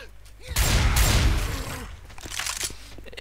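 Shotgun blasts from Left 4 Dead 2 ring out in zombie-filled gameplay: a loud burst of two heavy shots close together near the start, then fainter sporadic crackling and game noise with no talking.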